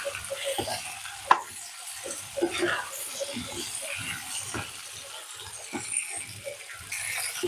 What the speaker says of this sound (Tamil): இது நல்லா எண்ணெயிலே நல்லா வதங்கட்டும்.